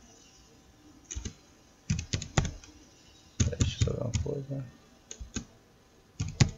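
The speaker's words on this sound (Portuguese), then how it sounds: "vou estar digitando o nome do canal" Computer keyboard typing heard in several bursts of quick, close clicks, entering a channel name while making a custom YouTube intro, with someone speaking briefly in Portuguese between them.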